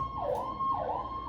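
Wailing emergency vehicle siren outdoors, rising and falling in two smooth sweeps, steady and moderately loud with no talking over it.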